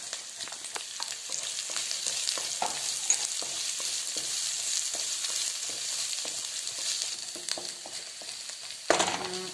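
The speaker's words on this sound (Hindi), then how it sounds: "अब हमारा ये प्याज थोड़ा सा भुन गया है" Chopped onions fry with garlic paste in a pan for paneer bhurji, giving a steady, close sizzle throughout with light stirring scrapes and a sharp clank near the end.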